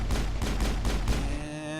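Rapid pistol shots fired at Geth troopers in the Mass Effect video game, a dense burst of sharp cracks over about a second and a half, then a fading ringing tail.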